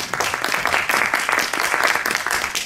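Steady, dense applause from an audience at the Meliaj 2024 costume competition in Montfort-sur-Meu fills the whole stretch, many hands clapping continuously at close range with no talk over it.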